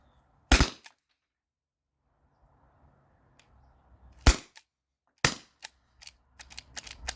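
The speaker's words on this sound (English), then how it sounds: "I'm just gonna pretty much hold them right next to each other and fire." Twin T4E HDP50 CO2 launchers, modded and fed from a 20 oz CO2 tank, fire sharp loud pops, a few spaced shots followed by a quicker cluster of fainter snaps and clicks at close range.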